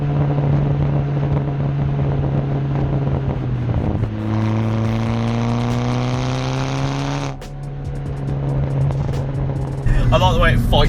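A forged, 370 bhp Seat Cupra R with a K04 hybrid turbo drones loudly from inside the car, its engine note climbing in pitch under acceleration, then dropping, amid wind buffeting and occasional voices.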